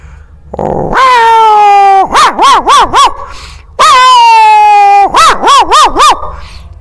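A 71-year-old man imitates a dog with his voice: two long drawn-out growling howls, each followed by a quick run of four or five sharp yelping barks, loud and close with no other sounds.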